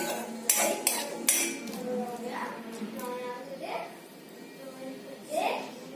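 A spatula stirs tomato into sabudana khichdi in a microwave dish, with scraping and a few sharp clinks against the bowl as a voice talks over it.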